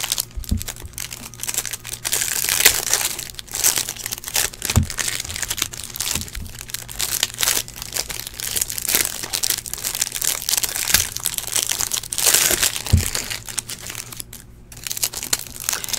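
Clear plastic wrappers on football trading card packs crinkling and crackling continuously up close, a dense rustle with occasional sharper snaps, loud and steady throughout, with no voices.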